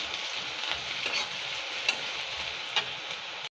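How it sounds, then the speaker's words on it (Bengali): Chopped onion, ginger and garlic sizzle steadily in a hot pan, with a few faint clicks from stirring before the sound cuts off abruptly. "পেঁয়াজ আদা রসুন কুচো দিয়ে ভালো করে এটা ভেজে নিচ্ছি।"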